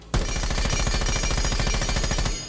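C8 rifle gunfire from Buck's gun in Rainbow Six Siege X, one loud sustained fully automatic burst of rapid, evenly spaced shots lasting about two seconds, close and alone.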